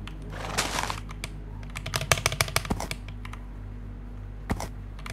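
Close computer keyboard typing in irregular bursts, with a quick flurry of key clicks early, a busier run of clacks in the middle and a few isolated taps later, over a low steady hum.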